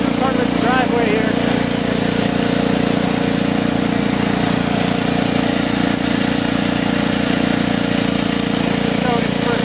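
A Toro 524 snowblower engine idles steadily nearby, a constant mid-pitched drone with a rough vibrating buzz and no change in pace through the whole stretch.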